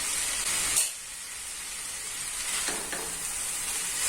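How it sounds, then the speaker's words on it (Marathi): Wheat flour noodles being gently stirred in a hot pan with ginger-garlic paste, a steady close sizzle and hiss with soft scraping strokes, a brief louder burst near the start, no voices. "आता हे हलक्या हातानेच ढवळायचे"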